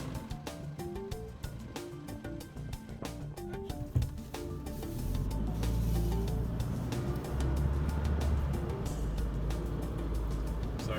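A 4WD crawls over hard beach sand on Fraser Island, its engine a steady low rumble that grows louder and fuller partway through, with occasional bumps and rattles from the cabin.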